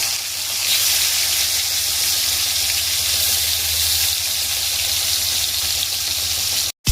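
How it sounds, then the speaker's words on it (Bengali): Hilsa fish pieces frying in a pan of hot oil, a loud, steady sizzle and hiss sustained close up throughout, cutting off abruptly at the very end. "ঠিক এইরকম করে মাছগুলোকে আমি ভেজে নেব"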